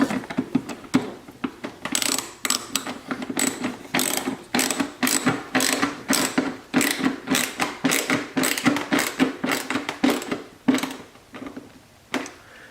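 A hand ratchet clicks in repeated bursts, close and crisp, as screws are tightened on a Corvette C7 rear add-on diffuser, with short pauses between strokes.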